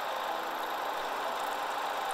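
Tractor engine in the Farming Simulator 2014 video game, a steady mid-pitched drone running continuously and evenly throughout, with no voices over it.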